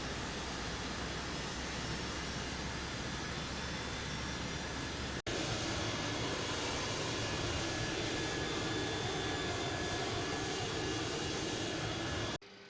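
Boeing 727F cargo jet engine spooling up during start in Microsoft Flight Simulator 2024, a steady loud broadband roar and whine heard from the cockpit. It holds constant, briefly cuts out partway, then resumes before stopping abruptly at the end.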